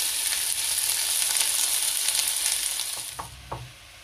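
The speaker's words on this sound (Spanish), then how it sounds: "Vamos a poner en nuestra olla, en un poquitín de aceite, nuestro ajo," Garlic and onion fry in a little oil in a pot, a bright steady sizzle close by that fades toward the end, followed by two soft stirring knocks.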